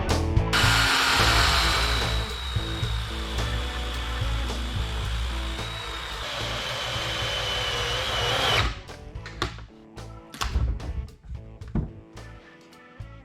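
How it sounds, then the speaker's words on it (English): A cordless chainsaw cuts through a log to square it for a pedestal base, a steady loud motor whine with a rising strain running for about eight seconds, then stopping abruptly, followed by scattered knocks and handling sounds. "So I'm going to use that chainsaw right there."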